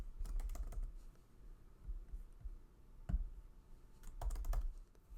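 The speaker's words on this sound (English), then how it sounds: "So I will type their names in here." Typing of three children's names on a computer keyboard, heard as clusters of quick, soft key clicks in bursts with short pauses between, close by and fairly quiet.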